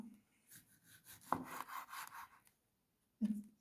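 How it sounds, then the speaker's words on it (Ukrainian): Knife slicing two tomatoes in half on a board, soft rubbing and cutting strokes with a sharp tap, a pause, then a final thud of the blade. "Навпіл розрізаємо два помідора."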